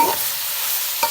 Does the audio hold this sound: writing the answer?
no